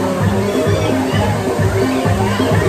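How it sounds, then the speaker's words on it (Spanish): A waterfall at a site in Iraq rushes in a steady, loud wash of water that fills the whole clip, with a voice talking over it. "vine a ver una cascada"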